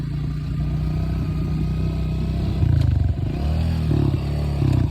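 A Honda CRF125F dirt bike engine revs under throttle in second gear during wheelie practice, a steady close buzzing drone that rises and falls with several sharper throttle blips toward the end.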